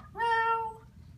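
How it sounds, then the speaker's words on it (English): A cat gives a single short, clear meow indoors, brief and moderately loud over quiet background noise. "That's a cat."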